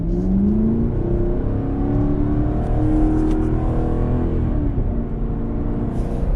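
A 2017 Chevrolet Camaro 2SS convertible accelerates hard in track mode, its engine a steady loud rumbling roar climbing in pitch through the revs, close and continuous with no talk.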